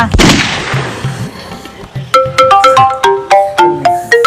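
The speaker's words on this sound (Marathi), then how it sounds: "फोन आला" An incoming call sets off a mobile phone ringtone in a Marathi comedy reel. A sharp burst of noise comes first, then a loud, plucked melodic tune plays its notes in a steady rhythm.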